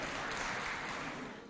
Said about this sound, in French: que je demande qu'on applaudisse très chaleureusement